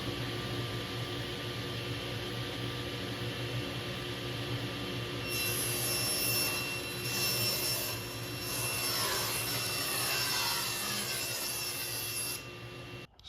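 A table saw fitted with a crosscut sled trims veneer panels for a custom gun case while dust collection roars steadily underneath; a brighter, harsher cutting whine rises over the constant drone for several seconds.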